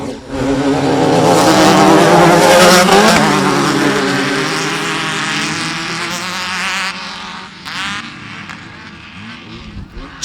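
GM EcoTech-type race engines of up to 300 horsepower roar as the vehicles take off at a river racing event, a loud, sustained, rising howl that holds strong for several seconds and then gradually fades.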